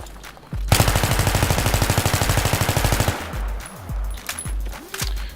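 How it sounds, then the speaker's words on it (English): M16A3 rifle firing full auto in a video game, one long rapid burst of evenly spaced loud shots lasting about two and a half seconds, followed by a few scattered clinks and a brief tone. "controlling the recoil, full auto fire"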